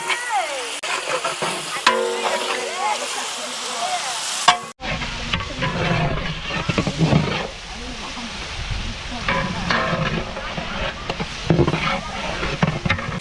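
Onions sautéing with salt in a large pot for a 15 kg batch of chicken dum biryani, a loud continuous sizzle with stirring scrapes, heard under a voice talking throughout.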